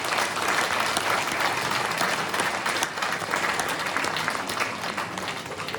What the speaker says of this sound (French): Nous pouvons tous les applaudir pour leur implication dans leur rôle et leur fonction